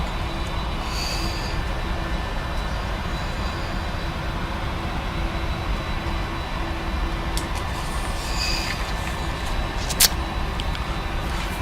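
Airliner engines spool up to takeoff thrust in the Prepar3D flight simulator, a steady loud roar with a constant whine that holds throughout, with a few brief clicks near the end.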